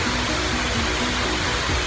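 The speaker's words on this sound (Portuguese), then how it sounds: "Olha que coisa maravilhosa que é a cachoeira" Shiraito Falls in Fujinomiya, Shizuoka, Japan, roars as a steady, loud, broadband rush of falling water with no breaks and no voices.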